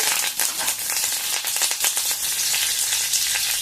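Mustard seeds, cumin, dried red chillies and curry leaves fry in hot oil for a brinjal masala curry, giving a loud, close crackling sizzle with quick spattering pops throughout and no speech.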